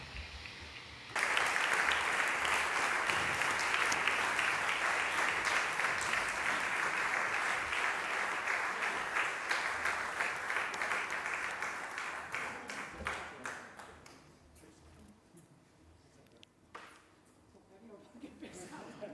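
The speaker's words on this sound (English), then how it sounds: "A big round of applause for the winners." A hall audience at a 2024 architecture prize award ceremony in Barcelona breaks into sustained, dense applause that holds for over ten seconds, then thins to scattered claps and faint voices.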